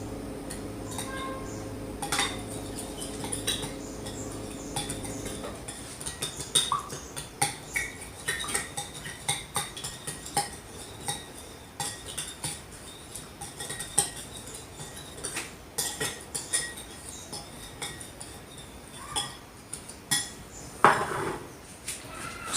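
A spoon clinks and scrapes irregularly against a bowl while macedoine salad is mixed with mayonnaise sauce. The clinks are close and fairly soft, after a short steady hum at the start.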